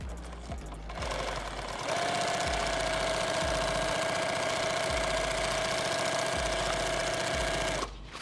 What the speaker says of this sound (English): I'm sewing right back over this stitch